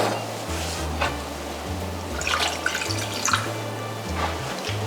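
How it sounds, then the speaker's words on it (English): Water runs into a saucepan while simple syrup is being made, a steady close splashing and trickling over a low, wavering hum. "Place that into a saucepan with equal parts water."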